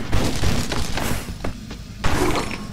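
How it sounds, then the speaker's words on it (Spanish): Booming explosions in the video game Stick It to the Stickman, several heavy thuds and bursts in quick succession with crackling debris, loud and close, no talk. "La explosión ya es nucelar total."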